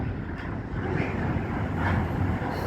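Strong, cold wind blowing outdoors at a demolition site in Blackpool, a loud continuous rushing roar buffeting the microphone with broadband noise and no talk over it.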